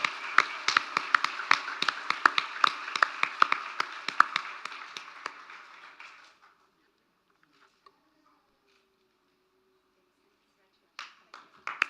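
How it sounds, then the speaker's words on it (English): Audience applause at a community awards ceremony for Young Citizens of the Year: a crowd claps steadily and briskly for about six seconds, then fades out to near silence before a few scattered claps return near the end. "Give them all both a big round of applause"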